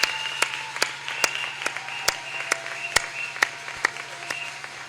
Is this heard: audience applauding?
yes